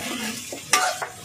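Goat meat stir-fried with spices in a pan, a soft steady sizzle broken by a sharp spatula scrape and a small follow-up knock, close by and without talk.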